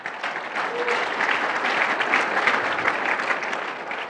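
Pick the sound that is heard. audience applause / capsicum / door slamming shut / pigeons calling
audience applause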